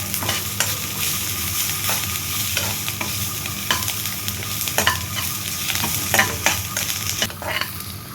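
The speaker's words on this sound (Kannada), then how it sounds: "ಇದೆಲ್ಲ ಸ್ವಲ್ಪ ಹಸಿ ಸ್ಮೆಲ್ಲು ಹೋಗೋವರೆಗೂ ಬಾಡಿಸ್ಕೊಬೇಕು" Ingredients for mutton biriyani sautéed and stirred in a pan, a steady close sizzle of frying with repeated scraping and stirring strokes, no voices.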